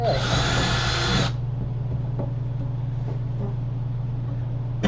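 A power drill whines loudly for just over a second while boring a hole during a computer case build, then cuts out, leaving a steady low hum and faint handling noise.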